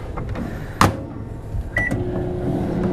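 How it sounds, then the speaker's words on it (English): A microwave oven used to sterilize a syringe in an open plastic bag, heard as a low steady hum with a sharp click or door clunk near the start and a brief beep, close by. "open the microwave oven, set it in the oven"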